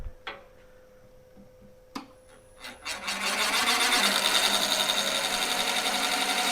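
Wooden lathe with a wood-on-wood drive being cranked by hand with a few knocks, then spinning up into a loud, steady rasping whir that holds close and continuous.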